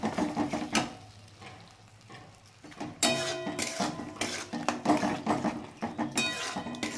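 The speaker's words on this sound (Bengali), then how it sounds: "এবার এটা দিয়ে আমি এবার একটু নেড়ে চেড়ে নেব।" Mustard-poppy seed paste masala being stirred in a hot pan for a parshe fish curry, with repeated close scrapes and clinks of a spoon against the metal and a light sizzle underneath, coming in irregular bursts with short pauses.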